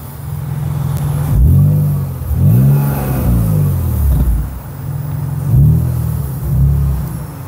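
A BMW Z3 Coupé with a 2.8L six-cylinder engine revs repeatedly nearby, several loud throttle blips rising and falling over a steady idle rumble.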